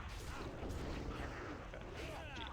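A dense, rumbling boss explosion in World of Warcraft, a sustained loud roar of booming, crackling blasts filling the whole stretch without pause.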